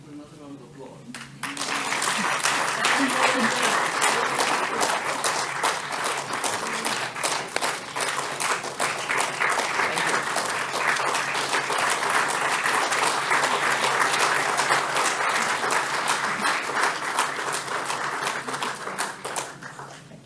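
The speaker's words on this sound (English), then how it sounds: "And for another round of applause." A sudden burst of audience applause for young changemakers at an on-stage event, dense, steady clapping that stays strong for nearly twenty seconds with a few voices mixed in.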